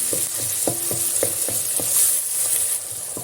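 Pepper paste and red pepper flakes being stirred and fried in a pan: a steady sizzle with repeated scraping strokes of a utensil, close and fairly loud.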